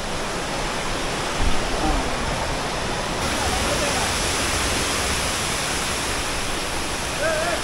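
Khoyachora waterfall roars with a steady, dense rush of falling water heard up close, a constant loud wash that never lets up.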